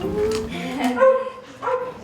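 A dog gives a few short yelping barks and whines, close by and moderately loud, in quick irregular bursts.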